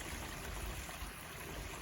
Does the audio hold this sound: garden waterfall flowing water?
yes